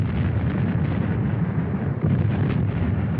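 Heavy WWI artillery bombardment, a continuous dense low rumble of massed explosions that rolls on without pause, loud and sustained with no distinct individual blasts standing out.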